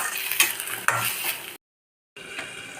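Scraping and clinking of a utensil stirring potato stir-fry with turmeric powder in a pan with soft sizzling, broken by a short silence before stirring resumes.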